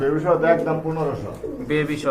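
A pair of light-coloured pigeons at a pigeon farm coo close by in soft, throaty, repeated phrases, with a voice talking faintly beneath them.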